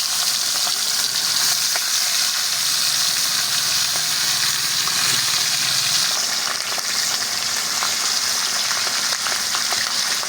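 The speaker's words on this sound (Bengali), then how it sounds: "সাবধানে ভাজবেন পাবদা মাছ কিন্তু খুব ফাটে" Pabda fish, a kind that spatters heavily, fries in hot oil in a wok with a loud, dense, close sizzle and crackle that runs steadily throughout, with no one speaking.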